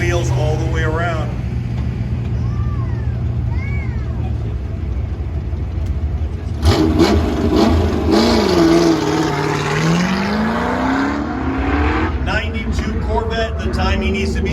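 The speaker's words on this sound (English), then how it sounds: "Tim Molson cruising up in that 92 Corvette." A 1992 Corvette on Forgeline wheels runs an autocross course at a Goodguys car show in Colorado; its engine revs rise and fall as it pulls away, with a public-address announcer talking over the sound.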